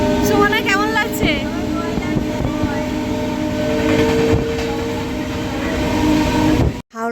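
A passenger train near Howrah on a pilgrimage route to Tarakeswar, its steady rumble and rail noise running throughout with people chatting nearby over it, ending in a brief sharp dropout.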